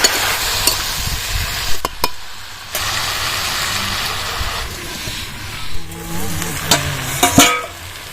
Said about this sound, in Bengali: ঢাকনাটা খুলে নেবো একটু নাড়াচাড়া করে দিতে হবে